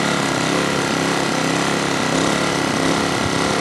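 A 909 Tools i2000 generator runs steadily with a constant, loud motor drone and a dense buzzing hum that holds evenly throughout, with no voices.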